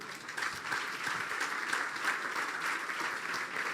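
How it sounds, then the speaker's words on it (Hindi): A church congregation claps for itself during a Christmas sermon, producing a steady wash of fairly quiet, continuous applause with slight swells, no voices over it. "तुसी अपने लिए तालियां बजा दें यार।"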